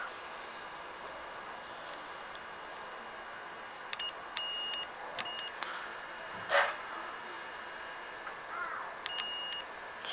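Multimeter continuity test on a temperature relay, with a few short electronic beeps and clicks over a faint background hiss, including one brief, slightly stronger tone.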